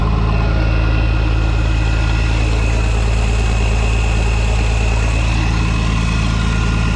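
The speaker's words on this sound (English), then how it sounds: "we got the vac running, 1066 turbo, our conveyor vac going into the day cab" Grain conveyor vacuum powered by a 1066 turbo tractor running steadily, a loud continuous low engine drone with even mechanical vibration and whine, close and unbroken, with no talking.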